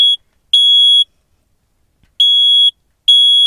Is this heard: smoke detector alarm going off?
yes